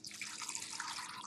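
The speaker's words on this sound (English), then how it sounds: "that's going to go right into our pot along with some clean filtered water." Clean filtered water pouring into a pot with a whole chicken, salt and peppercorns, a soft steady splashing stream, faint and brief.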